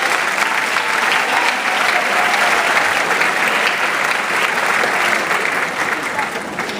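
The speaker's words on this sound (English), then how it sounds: "You can give them a applause." Sustained audience applause at a school ceremony honoring faculty and staff, a thick, loud roar of clapping that holds steady before tapering slightly at the end, with some voices mixed in.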